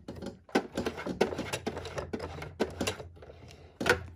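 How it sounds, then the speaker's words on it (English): Neck bone pillow fabric being stitched, a series of short close mechanical bursts of sewing with brief pauses between runs, no talking. "remove this pin, and now start stitching"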